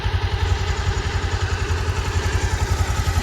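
A motorbike engine runs close by on a mountain trip, with a steady low pulsing idle throb and mechanical clatter, continuous and without talk.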